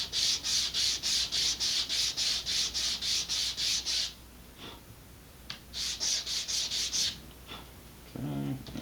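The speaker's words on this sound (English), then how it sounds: "I'm gonna sand them down just a little bit to get rid of those burrs" Hand sanding of small Estes BOSS model rocket parts to remove burrs, a close, rhythmic back-and-forth rubbing in quick strokes, pausing briefly and then resuming, with a faint clatter at the end.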